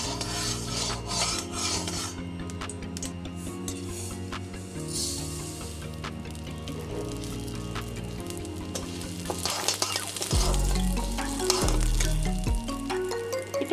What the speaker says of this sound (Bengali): সামান্য সর্ষের তেল দিয়ে দেবো, দিয়ে এটা আমি ভালো করে ভেজে নেব।